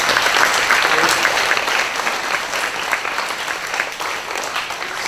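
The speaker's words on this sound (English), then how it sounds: "Could you applaud for them, please?" An audience at a county announcement event claps warmly, a loud burst at first that gradually thins and softens while continuing steadily.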